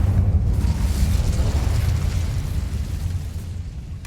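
Incendio fire spell explosion in the Hogwarts Legacy video game, a loud sustained rumbling burst of flame with deep booming roar that slowly fades over a few seconds.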